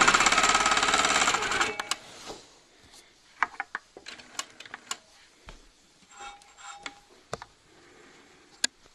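Sewing machine quilting feathers along a scalloped border: a steady dense mechanical whir for the first two seconds, then scattered short stitching bursts and clicks with quiet gaps between.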